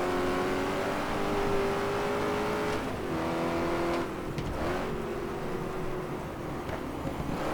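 Racing car engine in the GT Legends driving game, revving hard with steady harmonic drone that dips and climbs as gears change through a chicane, loud and continuous with no talk.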